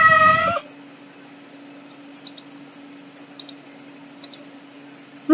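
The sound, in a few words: cat meowing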